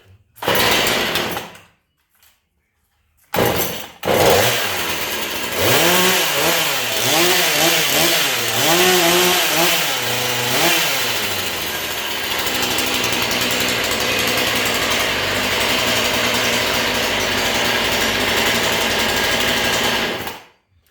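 Husqvarna 440 gas chainsaw with its bar and chain fitted and choke set, after a couple of short pull-start bursts, fires up loud and close, revving up and down in pulses before settling into a steady high-pitched idle buzz.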